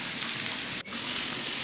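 Peppers, onion, carrots and zucchini sizzle loudly and steadily in a hot pan, a constant close hiss broken by one brief dip, with no talk.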